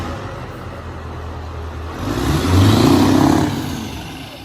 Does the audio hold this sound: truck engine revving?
yes